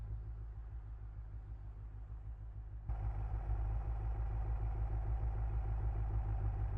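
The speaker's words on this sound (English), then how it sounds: "I turn off traction, the car gets louder." A video game car engine idles with a low, throbbing rumble, then abruptly jumps louder and brighter as traction control is switched off, holding a steady, harsher drone afterward.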